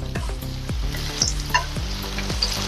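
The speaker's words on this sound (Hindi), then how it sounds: "दूसरी साइड से भी हम ऐसे ही तलेंगे" Hara bhara kababs, green vegetable cutlets coated in cornflour, fry in hot oil with a steady close sizzle, broken by a few soft knocks and scrapes of a utensil in the pan.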